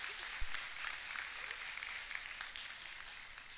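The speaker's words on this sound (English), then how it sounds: "That deserves some applause." Applause at a graduation ceremony, a steady wash of clapping from a crowd filling the room, fairly even in level and continuing throughout.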